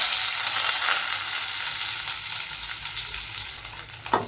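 Long-sliced large onions sizzle and fry in a pan with cardamom for chicken biryani, a steady close crackle throughout with a brief clatter at the end.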